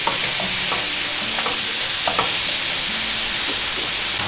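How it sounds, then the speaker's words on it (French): Onions sweating in a hot pan for a homemade tartiflette, giving a loud, steady broadband sizzle throughout with a few brief stirring scrapes and clicks, no voices. "Là, je mets les oignons. Faites-les suer."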